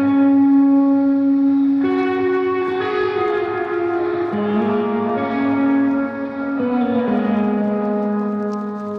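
Electric guitar playing a slow opening intro riff for a song, bright sustained notes ringing out with heavy reverb, loud and alone with no voices.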